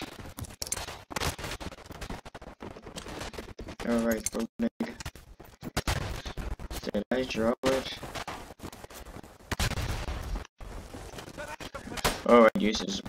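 Machine gun fire and scattered rifle shots crack in a World War I battle in the game Tannenberg, sharp bursts and single reports at irregular intervals, mixed with players talking throughout.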